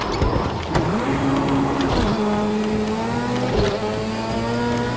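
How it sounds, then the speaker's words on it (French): In the Project Cars 2 rallycross racing game, a rhythmic swishing like windshield wipers sweeps every second or so over a steady engine drone and road noise. "Pourquoi j'entends un bruit comme d'essuie-glace?"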